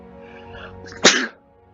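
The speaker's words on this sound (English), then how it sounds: "I sneezed 3 times." A single sharp sneeze from a person bursts out loud and close after a stretch of quiet room tone, then cuts off.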